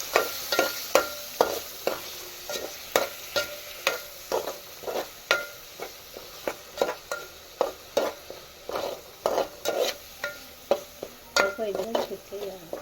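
Curry leaves and tomato pulp frying in a pan for chicken curry, a spoon scraping and stirring in quick repeated strokes over a soft sizzle, close and moderately loud.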